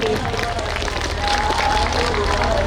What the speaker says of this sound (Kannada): ಆಡಿಯನ್ಸ್ ಆಗಿರೋ ನೀವೆಲ್ಲರೂ ಜೋರಾಗಿ ಚಪ್ಪಾಳೆ ಹೊಡೆದು ಪ್ರಾರಂಭ ಮಾಡೋಣ